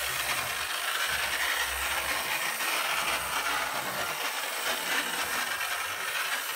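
An old Lima model shunter locomotive runs along its track, giving a steady, noisy mechanical whir and hiss that holds at an even level throughout, with no talking.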